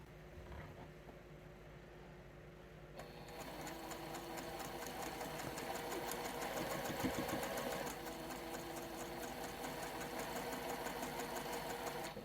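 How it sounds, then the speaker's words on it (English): A sewing machine stitching a quilt block, its rapid even motor whir and needle clatter running steadily and close, picking up pace partway through, with no voices. "and we're going to go sew it."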